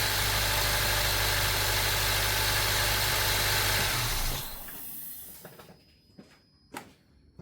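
A steady, loud Acura TSX engine idles just after starting, then is shut off; the running drone stops about four seconds in, leaving a few faint clicks and ticks in near-quiet.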